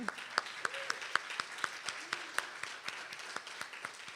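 Sparse, scattered clapping from a small church congregation at a Sunday celebration service, honoring a live band; individual hand claps sound distinct and moderately quiet, with faint murmuring voices underneath.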